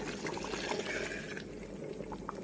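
Hot water poured into mutton curry in a pot, a steady close liquid pour and bubbling hiss running alone throughout.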